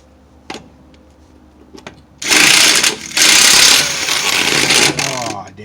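A power tool, likely an impact wrench, tightens lug nuts during a wheel swap on a C10 truck: a few faint clicks, then loud, close buzzing bursts of about a second each with brief pauses between them.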